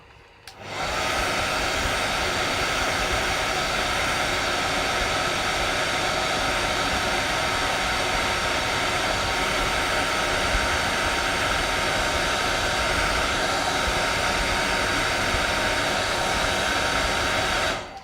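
A hair dryer runs steadily at close range to dry a layer of paint, switching on after a moment and blowing as an even, loud whooshing hum for the whole stretch before cutting off at the end.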